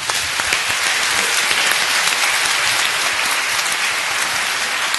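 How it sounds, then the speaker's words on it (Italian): Dense, steady applause from an audience at a business anniversary event in an industrial hall in Ivrea, Italy, filling the whole stretch with continuous clapping at even loudness, no voices on top. "Chiedo alla direttrice se fate un applauso anche a lei"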